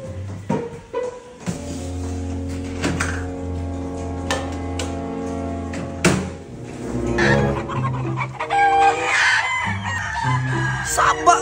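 Chickens cluck loudly close by, and a rooster crows among them, the calls overlapping in uneven bursts.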